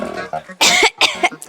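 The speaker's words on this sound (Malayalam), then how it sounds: "എന്തിനാ ഇത്ര ചുമക്കുന്നു?" A person coughs loudly and close, in two or three harsh bursts after a short stretch of throat noise.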